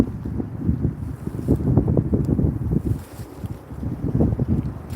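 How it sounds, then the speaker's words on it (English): Strong wind buffets the microphone outdoors beside a canal where someone is setting up for catfishing, producing loud, continuous low rumbling gusts that surge and ease throughout. "It's real windy out here."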